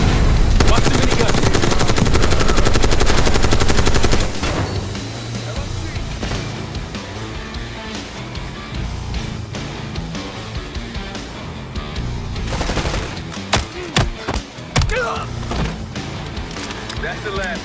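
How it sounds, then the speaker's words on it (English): Sustained minigun fire from Call of Duty Black Ops 6, a loud dense rattling roar for about four seconds, then quieter scattered gunfire, explosions and battle noise with voices talking over it. "Watch the minigun."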